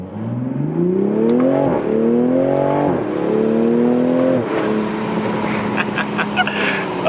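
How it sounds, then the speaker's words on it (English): A Toyota Supra accelerates hard on a public road, its engine note climbing steadily through several gear changes with brief dips between shifts, loud and close, settling into a steady cruise at the end. "We're gonna do a quick acceleration now in the Supra."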